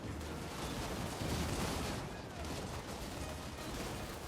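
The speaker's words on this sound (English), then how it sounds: "concentrated gunfire is going to make sure that nothing reaches my front line" Massed musket gunfire from infantry units in Total War: Warhammer 3 rolls on as a dense, continuous crackle of overlapping volleys, steady and fairly loud, with no talk over it.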